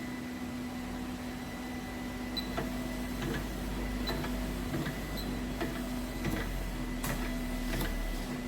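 A sweets-making machine runs with its filling unit and cutter switched on, giving a steady mechanical hum with a constant tone and irregular light clicks and ticks from the cutting action, fairly quiet.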